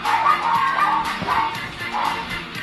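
Dogs bark in the Game Gear RPG Moldorian: The Sisters of Light & Darkness, a few repeated chiptune-style yapping barks in a steady rhythm over a looping game tune.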